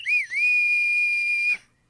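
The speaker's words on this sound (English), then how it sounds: "I also got a whistle." A single sustained whistle blast, loud and close, holding one steady shrill pitch after a brief warble at the start, then cutting off into silence.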